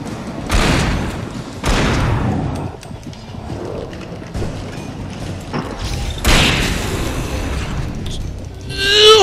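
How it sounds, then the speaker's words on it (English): Flashbang detonations in the video game Alan Wake: several loud booming thuds at irregular intervals, each a sharp burst followed by a rumbling decay, with a brighter metallic burst at the end. "Flashbang! Flashbang!"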